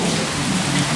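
Steady gentle rain hisses close and even for a moment, with no voices over it.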